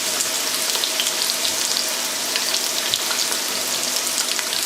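Half a cup of chopped onion with thyme and a bay leaf sweating in a pot for lobster stock, giving a steady, close, even sizzle and crackle throughout with no talk.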